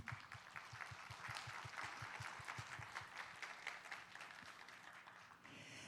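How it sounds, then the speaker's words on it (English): An audience at a coffee leaders' forum plenary session applauds in a large hall, a faint, even patter of many hands with a rhythmic pulse underneath, tapering near the end. "please give another round of applause"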